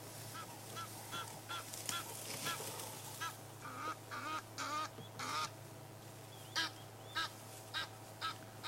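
Geese honk repeatedly in short, loud, uneven bursts on a night safari drive, with steady background hiss and calls clustering toward the middle and end.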